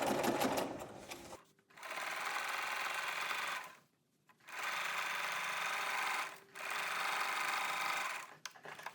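A sewing machine stitches flannel rag quilt pieces with a 5/8 inch seam, heard as a close, steady whirring buzz in three sustained runs separated by brief pauses, with no talking.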